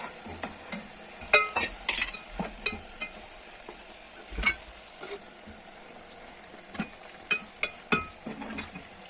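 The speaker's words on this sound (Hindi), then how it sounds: "तकरीबन से 5 मिनट तक भूनना है।" Spice masala frying in a pan with a little water added, a soft sizzle broken by scattered scrapes and clinks of a spoon stirring against the pan.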